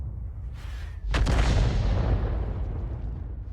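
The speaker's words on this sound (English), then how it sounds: "Okay, so we're firing stun HE" A tank's gun fires a single loud, booming HE round in a tank video game, with a sharp crack followed by a long rolling rumble that slowly fades.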